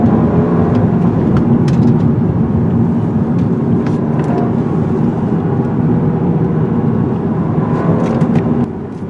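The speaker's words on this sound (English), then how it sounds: "All that whooshing noise you hear in the background is the air conditioning" Air conditioning whooshes inside a moving 2018 Audi A4, a loud, continuous broadband rush blended with cabin drone and a few faint clicks, steady throughout with no one talking.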